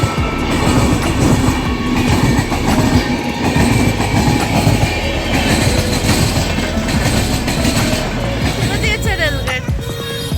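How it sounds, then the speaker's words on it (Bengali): A train rolls past a railway level crossing at close range. A loud, continuous rumble of wheels runs throughout with rhythmic clatter over the rails and brief metallic squeals, and voices are faintly mixed in. "এদিকে। ট্রেন আসছে।"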